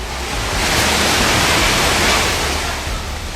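Floodwater rushes through the streets of Jodhpur in a steady, dense roar of broadband noise, loud and continuous from start to finish with no voices or other sounds.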